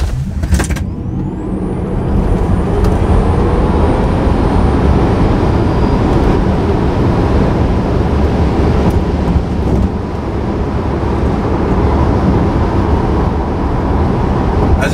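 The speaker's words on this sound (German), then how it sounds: "0-100 ist bei dem Fahrzeug auch wirklich beeindruckend. Ich zeige euch das jetzt mal." A Tesla Model 3 Performance electric car accelerates hard from 0 to 100 km/h and beyond, heard from inside as a loud, sustained roar of tyre, road and wind noise with a faint rising electric whine.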